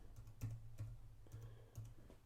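Keys clack on a computer keyboard in a brief burst of typing, about six distinct, close taps spaced irregularly over a couple of seconds, with no talking.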